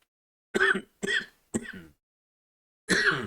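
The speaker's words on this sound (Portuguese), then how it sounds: "Gravando vídeo tossindo é muito ruim" Four harsh coughs and throat clearings from a nearby person, three in quick succession, then a pause and a fourth, each short and loud against silence.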